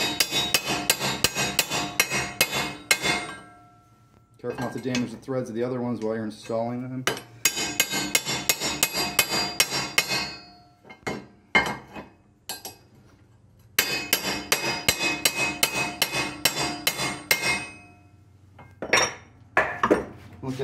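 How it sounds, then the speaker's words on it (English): Rapid metallic hammer strikes ring out in repeated bursts, loud and close, separated by pauses where someone speaks; a hammer and chisel drive spline studs into a Talon 8-inch portal wheel hub. "you just put a hammer and a chisel, and you hammer them in there"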